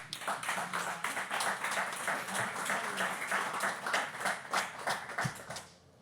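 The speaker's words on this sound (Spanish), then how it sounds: "Fuerte aplauso." Applause from an audience at a social poetry event, dense and steady clapping from a crowd for several seconds before fading out at the end.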